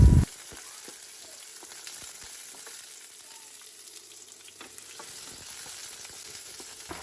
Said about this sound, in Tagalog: maglagay lang tayo ng mantika sa ating cooking pan, tapos igisa natin yung ating bawang, sibuyas